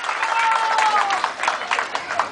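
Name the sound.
audience applause for a children's Tahitian dance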